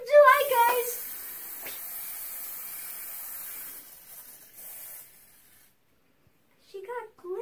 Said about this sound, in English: She got glitter spray.